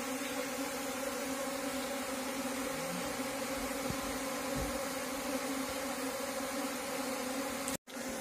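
Apis cerana honey bees crowding into a hive box with a queen gate make a steady, low massed hum close by, with a few faint taps before the sound cuts out abruptly near the end.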